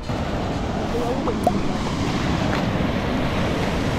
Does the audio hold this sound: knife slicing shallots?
no